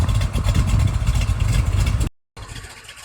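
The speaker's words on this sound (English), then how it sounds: "That's my favorite sounding engine." 1968 Chevrolet Camaro Z/28 with its 302 V8 idling close up, a deep, loud, lumpy rumble that cuts off abruptly into a brief silence before fainter sound returns.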